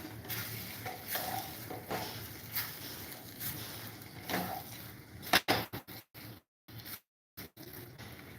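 A spoon works semolina halwa with cardamom and ghee in a pan, giving soft rhythmic scraping and gentle sizzling strokes at a low level, broken by a few sharper clicks and brief silences toward the end.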